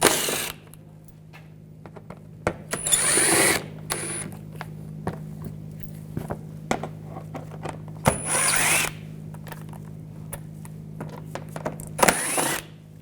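On a 2011-2018 Volkswagen Jetta 2.0L TDI, a power drill with a T25 socket spins out screws in three loud whirring bursts, with clicks and handling noises between them over a low steady hum.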